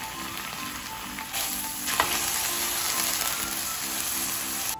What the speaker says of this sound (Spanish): Lo primero que vamos a hacer es cocinar la carne.